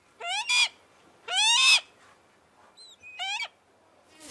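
Young owls in a falconry nursery at Château de Chambord give a few loud, rising screeching calls in short bursts, separated by pauses, with a faint chirp between them; no talk.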